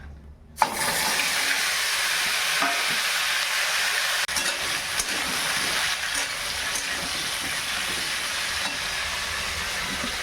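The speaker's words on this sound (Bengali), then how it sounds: "তেলের মধ্যে এই যে জিরে ফোড়ন দিলাম। আর এই যে এই সবজিগুলো দিয়ে দেবো।" Cumin seeds and vegetables hit hot oil with a sudden burst, then settle into a steady close crackling sizzle with faint stirring knocks, no voices.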